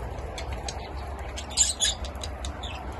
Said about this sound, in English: All the budgie beepies.